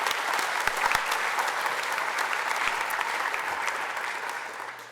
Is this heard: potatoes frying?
no